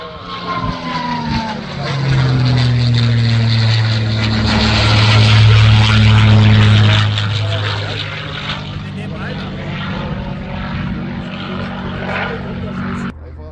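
P-51 Mustang with a V12 Merlin engine making a low pass over an airfield at an air show, a deep propeller roar swelling as it approaches, peaking loud, then fading away, with people talking nearby.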